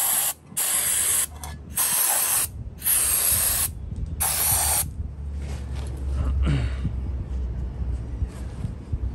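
Several bursts of aerosol spray on a vintage Disston Model D25 electric drill, loud hissing jets separated by short pauses, followed by quieter rattling and handling noises.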